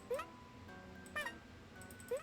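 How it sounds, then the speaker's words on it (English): A cartoon cat in the video game Magician's Quest meows three times, short rising mews spaced about a second apart over a faint musical background. "Get out of here, you little cat."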